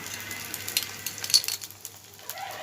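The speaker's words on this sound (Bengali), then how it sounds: "পেঁয়াজটা একটু ভেজেই নেবেন তাহলে তরকারির টেস্টটা ভালো লাগবে খেতে" Onion frying in a pan for a chicken malai curry gives a soft, steady sizzle with faint scattered clinks and crackles near the pan. There is no talk.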